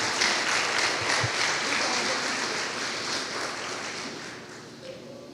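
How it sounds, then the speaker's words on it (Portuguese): Church congregation applauding during a Sunday communion service, a sustained, full wash of many hands clapping at once that slowly tapers, with faint voices mixed in. "Pode aplaudir ao Senhor, irmão."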